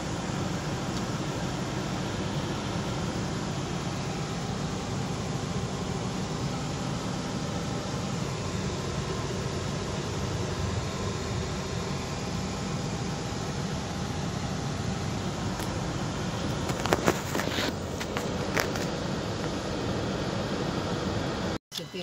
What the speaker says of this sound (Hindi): अभी मैं एसी ऑन किया हूँ, एसी में थोड़ा सा आरपीएम इंक्रीज होता है।